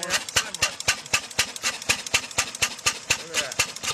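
An 1886 Benz car, the first Mercedes, with its single-cylinder engine running in a steady, rapid chugging rhythm of sharp, evenly spaced beats, close and loud, with no clear talk over it.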